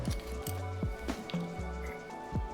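Half an ounce of vermouth is poured for a golf-inspired cocktail, a short close trickle of liquid into a glass or jigger among faint clinks, with no talking.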